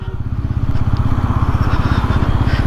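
Bajaj Pulsar N160 4V motorcycle riding in third gear without throttle, a close, loud, steady rapid engine putter with an even pulsing beat.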